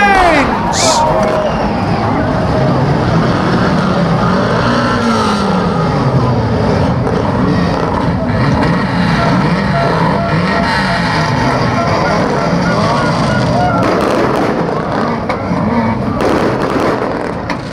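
Banger racing cars at Kings Lynn for the 2 Litre Bangers world final, engines revving and rumbling together loudly and continuously, with crowd noise and announcer-style talk mixed in.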